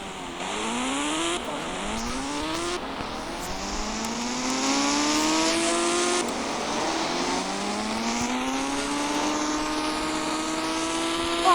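Motorbike engine in an Indian bike video game, a loud continuous drone whose pitch climbs repeatedly through gear shifts, each rising sweep dropping back before climbing again, with no speech.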